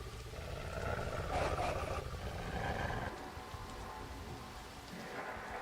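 Heavy rain pours steadily in the video game Go Wayback, a dense, loud roar with low rumbling beneath and no pause across the whole stretch.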